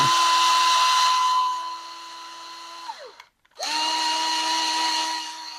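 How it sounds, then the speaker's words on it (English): A power drill working on a guitar whirs steadily at high speed, winds down briefly to a stop, then spins back up and keeps running loudly. "I do have another speed setting on my drill"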